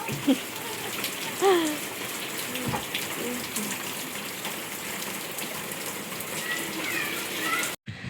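Rain falls steadily across the whole stretch, a broad continuous hiss with scattered drops, while a few faint voices and brief chirpy sounds rise over it now and then.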